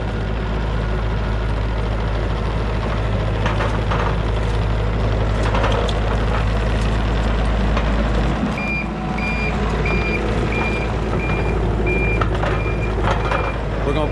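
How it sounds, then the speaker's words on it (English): Skid loader working near a dump truck at a shop, its steady engine rumble running throughout with an intermittent reversing beeper sounding in a regular pulse over the last several seconds, fairly close. "We're going to take the skid loader."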